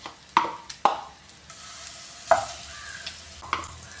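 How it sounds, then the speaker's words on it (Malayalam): Fish and masala frying in a pan while being stirred, with a steady low sizzle broken by four sharp scraping strokes of the spoon spaced about a second apart, close and fairly quiet, no talk. "ഇതെല്ലാം നന്നായിട്ട് ഒന്ന് ഫ്രൈ ആയിട്ടുണ്ട്. മസാല ബാലൻസ് ഉണ്ടായിരുന്നേ, അത് ഇതിലേക്ക് ഇട്ട് കൊടുക്കുവാണ്."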